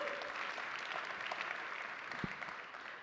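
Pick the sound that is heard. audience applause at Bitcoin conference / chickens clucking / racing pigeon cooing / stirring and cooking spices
audience applause at Bitcoin conference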